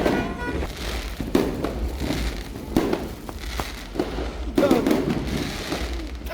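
Fireworks go off outdoors in a series of crackling bursts and pops at irregular intervals, fairly near, with faint voices in the background.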